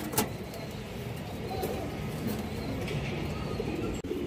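Muslodom pigeons coo softly in a loft, with low murmuring calls under a steady background hum and a few sharp clicks.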